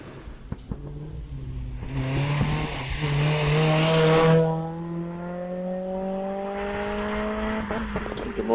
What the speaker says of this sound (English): car number 77 coming up to the line, and this is the new shape Alpine A110 driven by Carolyn Ryder